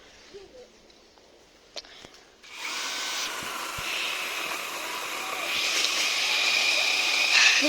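A new chainsaw cuts through wood, its engine starting abruptly after a couple of faint knocks and then running loud and steady for several seconds, its pitch rising as it works.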